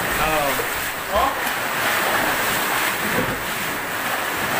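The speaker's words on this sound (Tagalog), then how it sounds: "Lalaking alon." Heavy surf roars continuously with strong wind buffeting the microphone, and a few brief voices are heard faintly over the crashing water.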